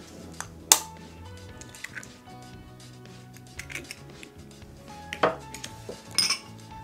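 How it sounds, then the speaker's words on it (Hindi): A second egg is mixed into vanilla cake batter in a bowl, giving a few sparse, sharp utensil clinks and light taps over a soft, steady musical background, with no talking. "इसको भी अच्छी तरह से मिक्स कर लेंगे।"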